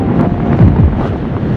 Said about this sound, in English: There you go. Serious wind.